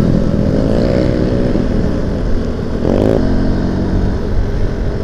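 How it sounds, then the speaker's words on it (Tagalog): A loud, noisy motorcycle exhaust roars close by on a ride along Marcos Highway, a steady rumbling drone with a brief rising rev near the middle, with no talk over it. "Labasan na may ingay na tambutso."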